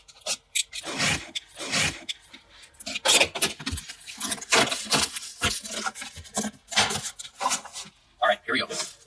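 A cardboard box holding an ETS intake for a 2022 Subaru WRX is opened by hand. Close scraping, rubbing and rustling of cardboard and packing material come in irregular bursts.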